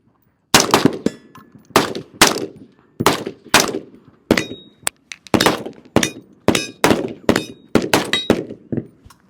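Rapid series of sharp, loud gunshots at an outdoor shooting range, about fifteen close reports in uneven bursts with metallic ringing tails, no talking.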